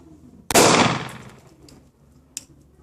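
A single loud gunshot rings out close by during a firearm malfunction and reload drill, followed by a long decaying echo and a faint metallic click a couple of seconds later.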